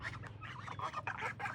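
A flock of five geese on a farm gives a steady, overlapping chorus of honking calls close by, continuing without pause through the whole moment.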